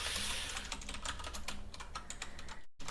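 Fast, steady typing on a computer keyboard, close up, with dense clattering keystrokes and a brief pause near the end.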